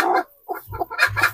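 Newly hatched local chicks and a hen, close by: a run of soft clucks and peeping calls in short bursts with brief pauses, no talking.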